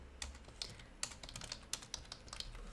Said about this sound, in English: Lots of typing here.